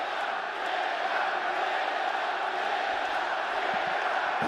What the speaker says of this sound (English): Pro-Yan crowd being heard from early as expected.